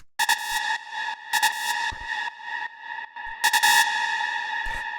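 Screechy synth lead for modern trance, a bright high tone with stacked harmonics and a filtered delay, sounding in three short bursts that hang in reverb, fairly loud and alone.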